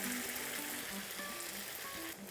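Eggplant pieces deep-frying in hot oil for fish-fragrant eggplant, a steady close sizzle and crackle with no talk.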